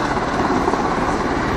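Rescue helicopter flying overhead at a Knockhill motor fair, a loud continuous rotor and engine roar with dense broadband rumble throughout.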